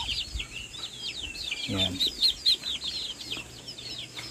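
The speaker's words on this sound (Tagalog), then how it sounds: "Pero buti na lang yung mga manok lang, pinapalabas nila." Rhode Island Red chickens clucking and chirping in a flock, near and fairly continuous, with a short lower croak partway through and a man's brief word over them.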